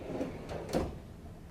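A bank of three cabin drawers in a Celebrity Edge cruise ship ocean view stateroom slides open and shut, giving a few soft close thuds and sliding rubs in a quiet room.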